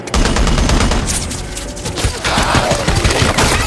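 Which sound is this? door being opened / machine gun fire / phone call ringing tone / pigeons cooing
machine gun fire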